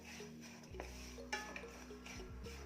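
Jaggery and ghee mixed together in a pan for til gud papadi, a spoon scraping and clinking against the metal with soft stirring strokes and a few sharper knocks, close and fairly quiet with no talk.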